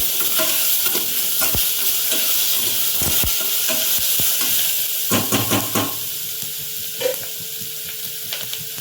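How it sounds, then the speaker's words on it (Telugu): Ginger garlic paste fries in a pan for chicken pulao, producing a loud, close, hissing sizzle with clusters of scraping stirs, easing slightly toward the end. "అల్లం తెల్లగడ్డ పేస్ట్ వేద్దాం. కాసేపు ఫ్రై కావాలి."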